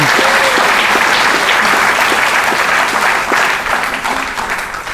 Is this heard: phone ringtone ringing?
no